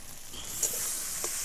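Fish frying in hot oil, a steady close hiss and crackle of sizzling with a couple of faint clicks, continuous throughout.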